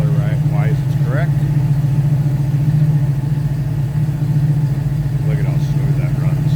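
A 1969 Pontiac Firebird's 400 V8 idles smoothly with a steady, loud low rumble, while someone talks over it throughout.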